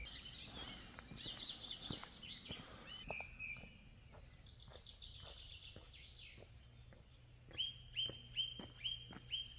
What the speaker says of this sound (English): There's birds everywhere.